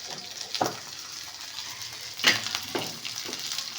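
Tamarind and curry leaves tempering in hot oil in a pan, giving a close, steady frying sizzle with several sharp crackling bursts as ingredients hit the oil.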